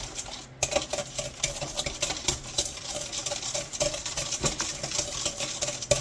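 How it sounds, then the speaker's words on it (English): A wire whisk stirs brown sugar in a bowl at a Great Harvest Bakery, working it until it dissolves; quick, repeated gritty scraping and light clinks against the bowl, close and steady, with no talk. "Now we're going to take the whisk and we're going to mix it until it is dissolved."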